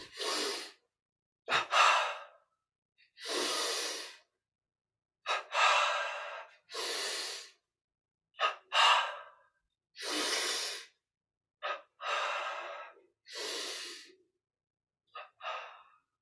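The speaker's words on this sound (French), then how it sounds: "On commence, bras tendus devant, double inspire." Series of audible, breathy inhalations during a Yogoda exercise done with arms stretched forward, each a sharp double intake of air repeated in a steady rhythm of about a dozen breaths, close and clear against silence.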